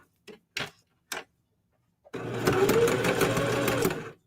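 A Singer HD sewing machine stitches fabric letters made from scrap fabric, a close, steady mechanical whir with a rapid ticking rhythm running for about two seconds after a few short isolated taps.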